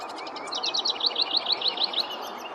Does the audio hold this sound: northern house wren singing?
yes